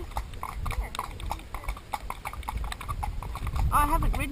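A ridden horse's hooves clip-clop in a steady walking rhythm, moderately near, under ongoing conversation between riders, with a brief whinny-like sound near the end.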